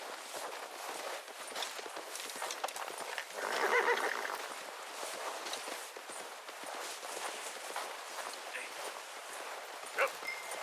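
A horse in the video game Red Dead Redemption 2 moves along with steady hoof clip-clops, a brief neigh partway through and a dog barking nearby, all at moderate level with a sharp knock near the end.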